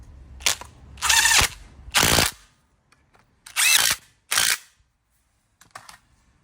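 A power ratchet or drill tightening bolts during a Toyota Yaris clutch change, heard as several short whirring bursts with brief pauses between them, loud and close, then faint clicks at the end.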